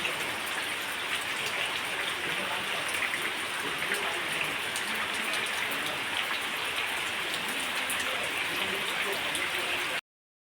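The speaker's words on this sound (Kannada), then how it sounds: "ಬೆಳಗ್ಗೆ ಬೆಳಗ್ಗೆ ಮಳೆ ಬರ್ತಾ ಉಂಟು ನೋಡಿ" Steady morning rain falls close by, a dense, even patter and hiss that runs unbroken from start to finish without letting up.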